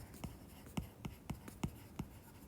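A pen draws on paper during a middle-school science lesson, making seven crisp, evenly spaced scratching strokes, close and quiet, with no talking.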